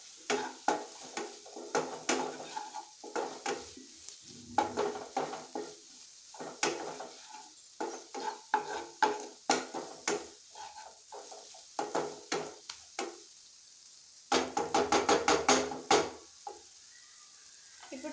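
Pasta mixture is stirred in a pan, a quiet steady series of scraping, clinking strokes with a faint sizzle, ending in a quick burst of rapid stirs.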